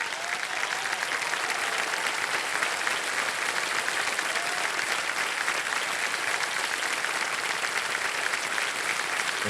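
A studio audience on the KBC game show claps without a break, a dense, even wash of applause close up that holds steady from start to finish.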